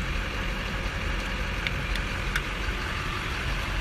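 A 2005 Chevrolet Silverado 2500 crew cab with a Duramax diesel idling steadily nearby, a continuous even rumble with faint ticking and no talk.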